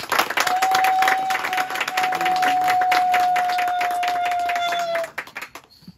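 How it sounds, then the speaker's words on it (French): An audience applauds together for several seconds, dense steady clapping that stops abruptly, leaving a few scattered claps, with a sustained tone sounding beneath it. "Est-ce que nous pouvons l'encourager en applaudissant pour lui?"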